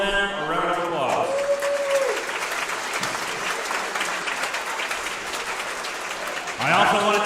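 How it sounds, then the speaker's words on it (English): An audience at a wrestling tournament gives a round of applause, with a steady crowd clapping wash throughout and a voice speaking briefly at the start and end. "Let's just take a moment to give all of them a round of applause."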